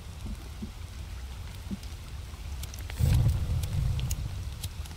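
Steady rain hisses through the forest in the survival game The Forest, with scattered drips and a deeper rumbling swell of heavier downpour or thunder midway, continuing without talk.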